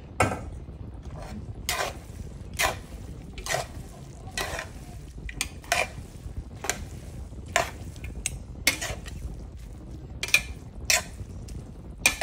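A spatula scrapes and stirs vegetables into pansit in a sizzling pan, with sharp utensil clatters landing at a steady rhythm roughly once a second over a soft background fry, close and with no talk.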